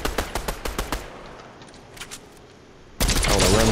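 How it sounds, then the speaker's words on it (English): Shotgun fire in a Fortnite duos match: a quick run of sharp, evenly spaced shots rings out up close, fades into a quieter lull with a couple of faint hits, then a loud burst of dense noise cuts in at the end. "Shotgun, you're shooting me."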